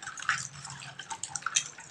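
Hands are rinsed under water at a rural Bengali home, a brief close patter of splashing and dripping trickles with no voices.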